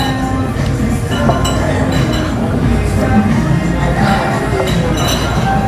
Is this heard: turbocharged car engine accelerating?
no